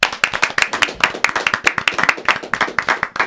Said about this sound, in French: Donc je vous demande d'applaudir Jessie.